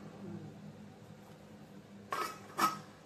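A quiet kitchen, then two quick metallic clanks close by as a lid is set onto a pot of jackfruit curry, each ringing briefly.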